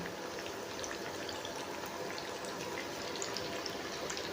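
Chicken nuggets deep-frying in oil sputter in a steady, even hiss with no pauses, a dense bubbling wash that stays at the same level from start to end.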